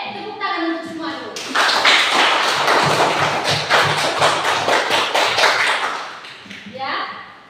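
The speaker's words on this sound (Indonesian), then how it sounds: "Tepuk tangan untuk semua dulu." A school class bursts into rhythmic hand clapping for a few seconds, loud and close, framed by a teacher's voice before and after.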